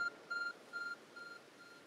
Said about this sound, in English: There's a glowing beeping object there.